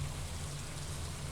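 Steady rainfall from the green rain weather event in the Stardew Valley video game, a continuous even hiss with a low rumbling bed, with no talking.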